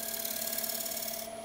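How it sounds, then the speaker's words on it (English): A skew chisel shear-scrapes a bead on a wooden bowl spinning on a lathe. A quiet steady rasping hiss runs over the hum of the turning lathe, fading slightly near the end, with no talk. "So working on that bead, using the skew chisel, almost shear scraping for this."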